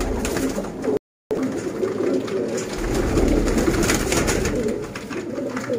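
Sialkoti pigeons, the 35-wale breed, coo steadily in a close, continuous murmur, soft rolling calls overlapping throughout with a brief gap near the start.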